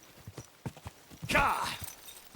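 Horse hooves clip-clop in Kingdom Come: Deliverance II, a handful of slow, close steps followed by a brief swell of other game noise, then a few more footfalls.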